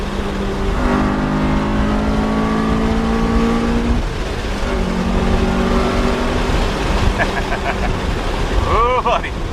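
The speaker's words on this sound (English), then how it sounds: "The thing I love most about these is the intake, the induction noise." A Honda Civic Si EM1 with VTEC accelerating hard, its intake induction noise rising in pitch through the gears as a loud, steady engine drone with strong wind and road roar inside the cabin, with a voice briefly talking over it.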